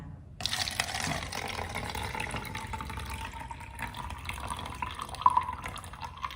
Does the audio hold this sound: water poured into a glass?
yes